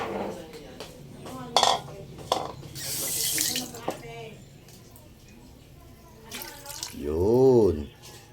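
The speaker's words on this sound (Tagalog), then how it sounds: "lagay na natin yung ating gata" Coconut milk pouring into a pan of simmering catfish with annatto, a watery splashing stream with kitchen clatter, in bursts beside a louder rising-and-falling tone near the end, while a person speaks.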